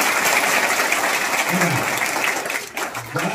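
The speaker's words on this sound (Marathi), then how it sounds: "टाळ्या वाजवायच्या." Students at a secondary school event in Shrigonda applaud with dense, continuous clapping, while a voice sounds faintly over it near the end.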